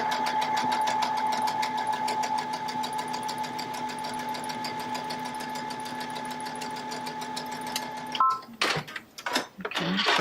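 Stitching a quarter-inch fabric seam, a Baby Lock sewing machine hums and taps in a rapid, steady rhythm for about eight seconds, then stops, followed by brief handling clicks and a voice.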